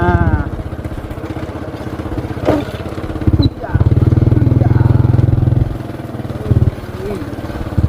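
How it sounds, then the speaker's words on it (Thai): A motorcycle rides across rural fields, its engine chugging steadily nearby and swelling louder midway, while people talk over it throughout. "ขี่รถเลาะข้ามทงเลย ไปเฮือนน้องบุญมา"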